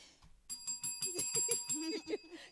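A bicycle-style bell rings in a quick series of bright metallic dings with a sustained tone, heard close and loud over a brief murmur of voices.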